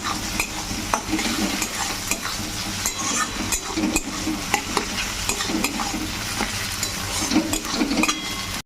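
Mushrooms frying together with slit green chillies in a pan, a continuous crackling sizzle broken by frequent stirring and scraping clinks, no talking.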